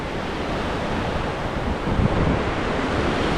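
A constant, roaring rush of falling water from Spokane Falls in Washington State, loud and broadband, with no pauses and no voices.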